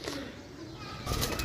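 Pigeons for sale, ten birds, stir in their pen with soft sounds and then a sudden close burst of wing flapping, with a faint murmur of voices in the background.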